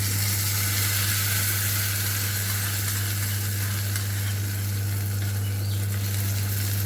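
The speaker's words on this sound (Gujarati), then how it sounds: "આપણે જે ચટણી બનાવીને રાખી હતી એમાં વઘાર એડ કરી દઈશું" Hot tempering poured into a bowl of chutney, giving a continuous bright hiss and sizzle that holds steady and close for several seconds with no speech.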